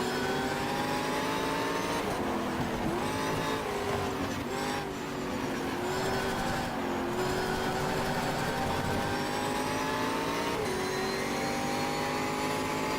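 A race car engine at full throttle in the racing game GTR 2, a sustained high revving drone with gear-shift dips and rising pitch sweeps, loud and continuous throughout.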